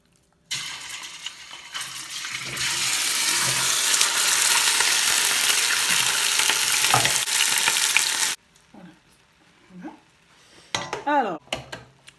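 Meat for a Moroccan three-meat couscous hits a little olive and sunflower oil in the pot, giving a loud, close, steady sizzle for about eight seconds that cuts off abruptly, followed by faint clatter and a briefly speaking voice.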